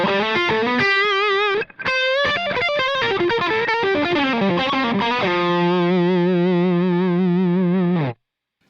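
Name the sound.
Truetone VS-XO dual overdrive pedal with gain dimed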